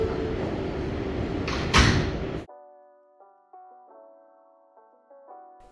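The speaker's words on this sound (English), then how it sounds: "Stand clear of the closing doors," Loud rumbling New York City 7 subway train noise ends abruptly as the doors shut, followed by a quiet, steady electronic hum with a few soft tonal shifts.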